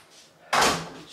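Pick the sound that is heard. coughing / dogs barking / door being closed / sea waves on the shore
door being closed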